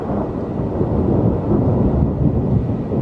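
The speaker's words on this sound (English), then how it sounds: "The noise that I heard was thunder" Loud, continuous rolling rumble of thunder from an approaching thunderstorm outdoors, a low sustained roar that swells and fades without breaks or voices.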